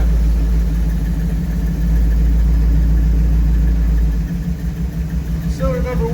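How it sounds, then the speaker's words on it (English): A truck engine idles loud and close during a power balance test with spark plug wires pulled, a steady low rumble that turns rougher and more uneven near the end. "Okay, so we got the truck running here."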